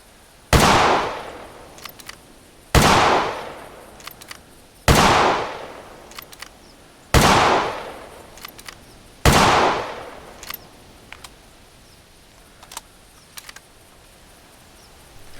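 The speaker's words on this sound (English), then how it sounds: "Let me fire a few shots first." A 7x64 bolt-action rifle firing in the hunting game theHunter classic: five loud, sharp shots spaced about two seconds apart, each with a decaying echo, followed by softer metallic bolt and reload clicks.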